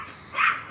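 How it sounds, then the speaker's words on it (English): A dog barks once, a short sharp yip at moderate distance in an indoor room, with no talking during it. "oh, there goes my dog."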